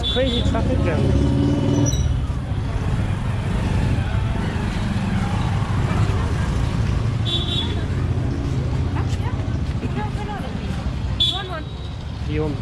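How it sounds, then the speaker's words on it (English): Busy road traffic in Amritsar, jammed cars, buses and trucks idling and creeping with occasional air-brake hisses and horn bursts, steady and close, with people talking over it. "Such crazy traffic jam."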